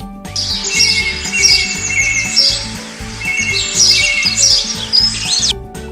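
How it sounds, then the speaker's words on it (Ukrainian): Small songbird singing cheerfully in spring, repeated bright chirping phrases over a steady pulsing low background, close and fairly loud. "пташка весело співає"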